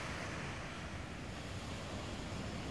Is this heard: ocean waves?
yes